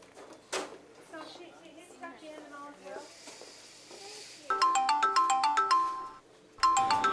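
A telephone ringtone plays in a domestic drama scene, a bright repeating electronic melody that starts loud after muffled background talk and household clatter, pauses briefly, then rings again.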